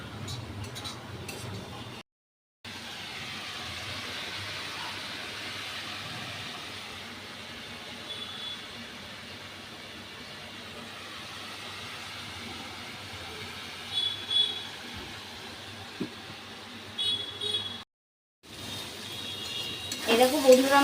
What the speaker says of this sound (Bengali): একটু হালকা লাল লাল করে আমি ভাজা করে নেব।